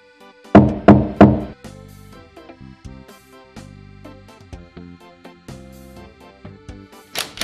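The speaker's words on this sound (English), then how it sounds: "I'll just knock." Knocking on a door in the video game Zak McKracken comes as three loud, quick raps up close, then fades under a plodding game music melody with no voices.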